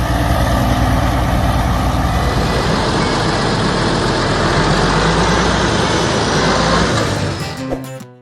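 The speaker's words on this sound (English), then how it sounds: "Case 500 diesel." A Case 500 diesel tractor from the mid-1950s runs steadily nearby, a loud continuous engine rumble with a dense low throb that holds for most of the stretch before cutting off abruptly near the end.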